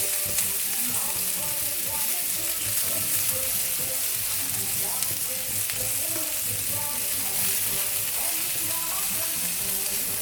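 Broccoli and other crustless quiche ingredients get stirred in a hot pan, giving a steady, loud sizzle and frying hiss with faint scraping of the stirring, continuous throughout with no talk.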